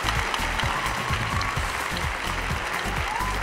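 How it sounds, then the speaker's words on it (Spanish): Audience applause at a televised singing talent show's blind auditions, a dense, steady clapping that fills the room and holds evenly throughout with no break. "Un aplauso."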